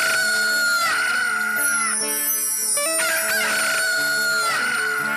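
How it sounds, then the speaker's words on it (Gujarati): A rooster crows loudly and close by in a long, full call, then a second crow follows, with no other sound around it. "એ મારી બહુચરના કુકડા"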